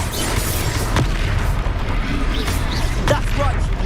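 Confringo blasting spell in Hogwarts Legacy, a dense rumbling blast with short bursts and pops over a steady battle din, with voices briefly heard in the fight.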